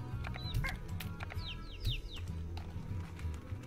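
Chickens clucking in the Slime Rancher video game, a few short chirpy clucks and squawks scattered over a low, busy game soundscape with faint taps.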